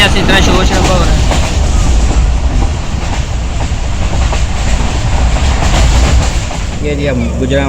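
A passenger train travelling from Gujrat to Lahore runs along the rails with a steady, loud rumble and rhythmic clickety-clack of wheels, heard close from inside, with a brief voice rising near the end.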